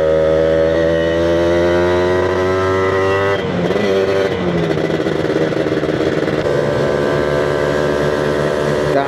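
A motorcycle fitted with a 62mm racing block, ridden on the road after rain, its engine droning loud and close with a steady layered hum that shifts pitch midway as the revs change.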